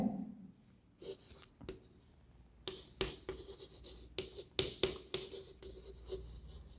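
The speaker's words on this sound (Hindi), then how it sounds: "इसको अपन यहाँ लिख लें" Chalk or marker strokes on a board in short irregular bursts, close and fairly quiet, with faint scratching between strokes and no talking.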